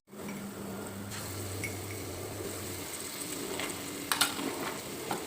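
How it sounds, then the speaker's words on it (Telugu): Ginger garlic paste frying in oil with half-cooked onions for mutton keema, a soft steady sizzle with a low hum early on and a few utensil clinks near the end. "ఒక 2 నిమిషాలు సిమ్లో పెట్టి అల్లం వెల్లిపాయ పేస్ట్ని మగ్గించుకున్నామండి ఆయిల్లో."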